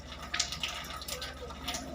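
Water runs from a Kangen water ionizer machine dispensing 9.5 pH water, a continuous gurgling, splashing flow close by with small bursts and drips, steady throughout.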